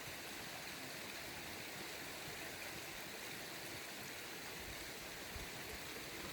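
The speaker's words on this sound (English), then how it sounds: "Hear the sound of the water and watch the ducks" A stream pours along in a steady, broadband rush of flowing water that holds even and unbroken throughout, with no voices and no distinct duck calls standing out.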